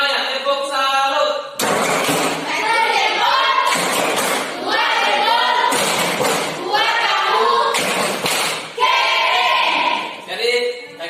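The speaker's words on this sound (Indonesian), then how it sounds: "Tepuk salut untuk semuanya." Students at a senior high school clap out the tepuk salut cheer, with rhythmic bursts of group clapping interleaved with loud chanted voices in repeating phrases.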